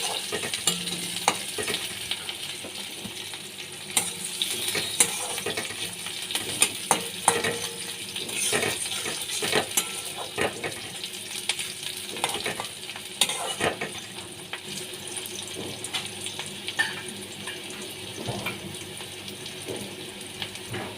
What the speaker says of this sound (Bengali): তার সাথে শুকনো লঙ্কা একটা পেঁয়াজ কুচি ভালো করে পেঁয়াজ কুচিটাকে ভেজে নিতে হবে